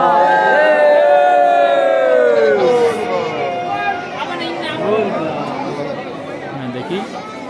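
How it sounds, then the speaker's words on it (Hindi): A dense, loud crowd at Baba Basukinath Dham temple in Jharkhand, many voices chattering and calling out together, with a strong chant or cry rising at the start and then easing into busy babble. "धेरै भीड़ हुन्छ"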